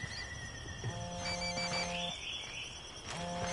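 A phone rings in the video game Ghost Recon Wildlands at a cartel base, sounding two repeated electronic ring bursts with a pause between them over faint background ambience.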